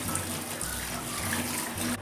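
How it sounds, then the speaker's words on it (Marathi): Cold tap water runs steadily over boiled noodles in a kitchen, a continuous close gushing stream that stops abruptly at the end. "याला थंड पाण्याने धुवायचे, म्हणजे याची प्रोसेस थांबते आणि चिकटपणाही सर्व निघून जातो याचा."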